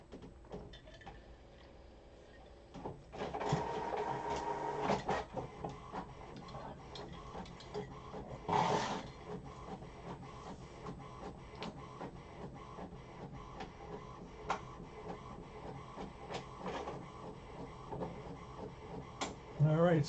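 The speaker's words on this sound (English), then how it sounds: "We got a couple of printers working here." A printer runs nearby with whirring, clicking and intermittent mechanical clunks as paper feeds through, a voice faintly present at times.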